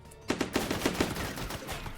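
Video game weapon fire: a quick burst of about six sharp, evenly spaced gunshots that rings out loud and close, then trails off into softer rumble and scattered noise.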